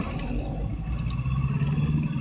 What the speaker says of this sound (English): It's just an old shitty truck.